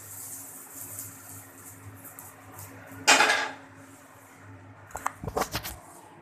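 A pan holding a Spanish omelette is flipped over onto a plate, giving a loud metallic clank partway through, then a burst of several quick clattering knocks as the pan and plate settle.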